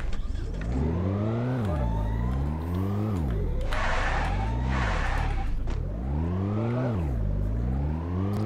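In the Free Fire video game, a car engine drives and revs. Its pitch sweeps upward several times and drops back, like repeated gear shifts, loud and continuous, with brief bursts of game noise in the middle.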